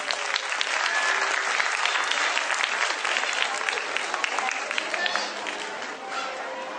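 Parents and children in a school auditorium give loud, sustained applause at a junior wing annual function, a dense crackle of many hands that tapers slightly near the end.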